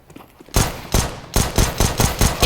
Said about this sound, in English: if you're going to use an SMG on T-side, I recommend you use the MAC-10